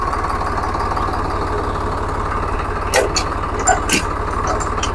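A Swaraj 735 FE tractor engine runs steadily with its PTO engaged, a constant low rumble with a few brief clanks and knocks near the middle; no speech is heard.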